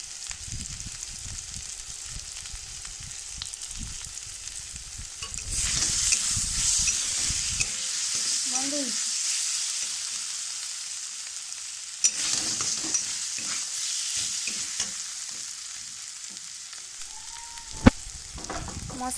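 Spice paste with boiled potatoes frying and being stirred in a pan, a steady sizzle with scraping spoon strokes, louder midway, plus a few sharp clinks.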